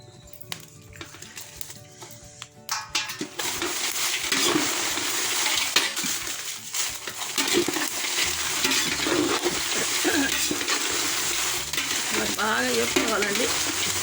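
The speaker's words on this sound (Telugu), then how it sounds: "ఇలా మెంతులు వేయించుకోవాలి ఇలా వేయించుకోవాలి కొంచెం సమస్యలు మాడకుండా" Fenugreek seeds dry-roasting in a pan for sambar spice powder, a steady sizzling rustle with occasional stirring scrapes and clinks, continuous and fairly close throughout.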